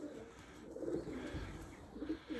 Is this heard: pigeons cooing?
yes